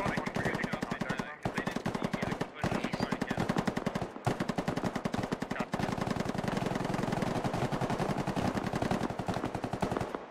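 Sustained machine gun suppressing fire in the Arma video game, a dense, loud, continuous rattle of rapid shots with only a few brief pauses over ten seconds.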